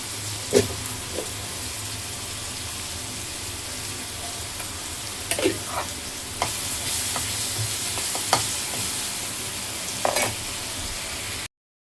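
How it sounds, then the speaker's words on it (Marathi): Ginger-garlic paste and peas frying with onions in hot oil for pav bhaji: a steady close sizzle with occasional sharp scrapes and clinks of a stirring spoon against the pan, no voices. "त्याच्यामध्ये अद्रक लसणाची पेस्ट टाकते आणि थोडे मटर पण मी टाकते त्याच्यात."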